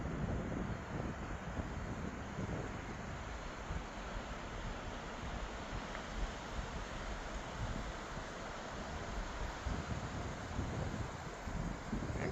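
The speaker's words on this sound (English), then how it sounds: "Oh yeah, that wind's definitely picking up" Steady, broadband roaring wind sweeps through tall forest trees, a dense continuous rush with no pauses, loud and enveloping throughout with faint rustling mixed in.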